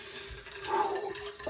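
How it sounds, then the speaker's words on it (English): Ice water splashes and trickles as a man rinses his face over a sink after a cold shave, a soft, close burst of water in a quiet bathroom. "Trying to rinse off the ice water."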